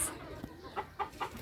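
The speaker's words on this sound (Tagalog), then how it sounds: "Eto manok ang nilaki." Chickens on a farm, a few short clucks spaced out over faint background noise, fairly close but quiet.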